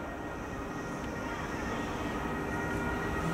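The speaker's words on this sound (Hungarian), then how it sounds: "Zónázó vonat érkezik Budapest nyugati pályaudvarról a negyedik vágányra" A passenger train pulls into the fourth platform at Kőbánya-Kispest station in Hungary, a steady low rumble of wheels and motors holding at moderate loudness throughout.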